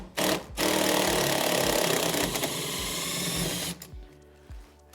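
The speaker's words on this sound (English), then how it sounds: "Get a drill, an extension." A power drill backs a bolt out of the base of a shipping crate for a rotary welding positioner, a loud continuous whir running about three and a half seconds after a brief start burst, then stopping.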